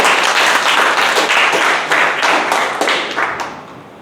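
A room full of people at a Toastmasters table topics contest claps for a contestant, with dense, loud applause that holds steady and then tapers off near the end.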